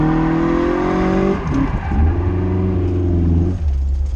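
A Toyota AE86 drift car with a Blacktop 20V engine revs hard on a skid pad and holds high, dipping briefly and then surging again in a loud, sustained whine close by.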